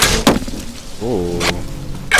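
An arrow strikes a bullseye target in The Walking Dead video game, landing as a sharp, brief thwack near the start, followed by a humming game tone and a later soft hit, with no talk.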